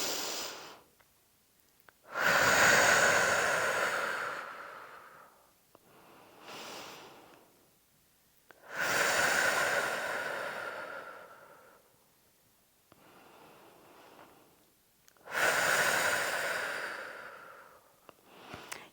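Three slow, deep breaths drawn in and let out by a pregnant woman while lifting her belly, each breath a broad, audible rush of air a few seconds long with pauses between, close and without speech.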